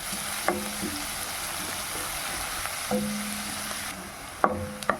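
Sliced onions sautéing in a pan for a green gram paneer cutlet, a steady soft sizzle with occasional scrapes and clinks of a stirring spoon, close and moderately quiet with no talking.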